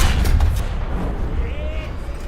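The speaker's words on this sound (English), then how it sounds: "I don't know if that was a fuel tank explosion or if it hit ammo or both" A tank explodes in the War Thunder combat game: a heavy boom and crackling blasts up front that fade into rumbling debris, with a brief whistling tone near the end.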